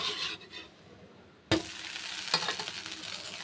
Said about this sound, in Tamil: அது மேலே கொஞ்சமாக லைட்டாக எண்ணெய் ஊற்றிக்கிறேன் தோசை வந்து ஒரு சைடு வந்துருச்சுங்க இப்போ தரட்டி போட்டுக்கலாம்